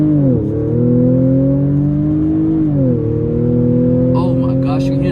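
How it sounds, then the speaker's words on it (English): A modified supercharged Audi S4 launches with traction control off. A loud, droning engine note with a supercharger whine climbs and dips through gear changes, up close, with brief voice sounds near the end. "you can hear the supercharger whining"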